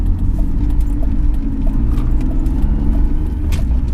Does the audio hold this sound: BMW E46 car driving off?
yes